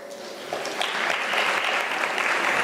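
An audience at a law career fair breaks into applause that swells after a quiet start into dense, sustained clapping filling the hall.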